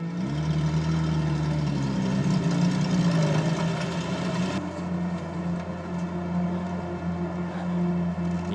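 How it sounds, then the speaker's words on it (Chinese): A motorcycle engine runs at a steady idle, a continuous low, throbbing rumble that stays close and even throughout, with no voices over it. "这是摩托车呀"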